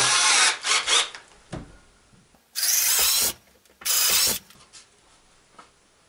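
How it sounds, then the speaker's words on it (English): A power drill bores one-and-a-half-inch and four-inch holes through a wooden board in two loud bursts, each under a second, separated by short pauses and lighter tool handling noises. "drill your two holes, the one and a half and four inch, completely through the board"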